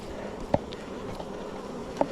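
Honeybees hum in a continuous, moderately close drone around an open backyard hive, the buzz staying fairly even while two sharp knocks land near the start and the end.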